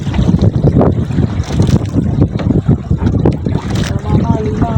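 Strong sea wind roars steadily against the microphone aboard a longline fishing boat, with loud gusty rumble and water noise throughout and a voice faintly audible beneath.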